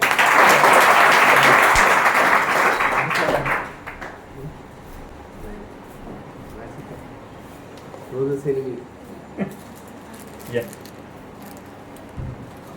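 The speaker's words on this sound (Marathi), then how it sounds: "जोरदार टाळ्या एकदा" A school audience breaks into loud, dense clapping for about four seconds. The clapping then fades into a quiet hall with someone speaking.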